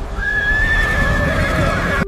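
A horse lets out a loud, drawn-out whinny close by over a dense rumble of hooves and chariot movement, with a brief sharp crack near the end.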